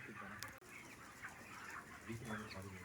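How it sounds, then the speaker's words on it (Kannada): Many chickens cluck and murmur together at a poultry farm holding more than 3,800 birds, a faint continuous chatter of hens with soft voices mixed in. "ಇದು ಕೋಳಿ ಫಾರಂ. ಮೋರ್ ದೆನ್ 3800 ಕೋಳಿ ಇದೆ ಇದು."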